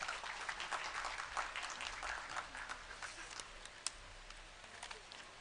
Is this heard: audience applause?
yes